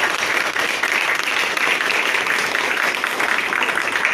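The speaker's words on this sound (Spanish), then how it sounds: "Fuertes palmas, por favor, esta brillante exposición." An audience at a Peruvian political culture forum applauds after a presentation, a full, steady roar of many hands clapping at once that holds evenly throughout with no clear pause.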